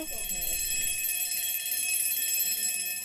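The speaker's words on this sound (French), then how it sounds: "La chaîne de la sonnerie est remontée en plusieurs tours au coucher et au petit matin, ça donne" A mechanical alarm clock's bell, its chain wound for the morning, rings in a continuous shrill jangle throughout, with a faint low murmur of voice at the very start.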